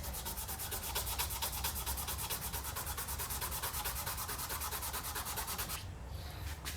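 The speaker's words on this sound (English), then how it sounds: "so I'm not going to bore you with me constantly sanding" Rapid, even back-and-forth sanding strokes with sandpaper on a Damascus steel knife blade, a Scottish dirk, a rhythmic scratchy rasp that stops near the end.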